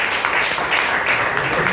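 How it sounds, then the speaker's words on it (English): A brief burst of continuous clapping from members at a Bangalore Toastmasters Club meeting, a short wash of applause filling the room at fairly close range. "Let's give them a round of applause"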